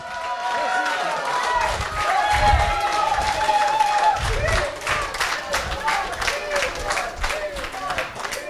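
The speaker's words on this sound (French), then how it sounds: "merci d'applaudir comme il se doit Monsieur Eddie Parker" A live show audience applauds comedian Eddie Parker, a dense, steady wash of clapping that stays loud and close throughout, with a sustained tone and voices mixed in.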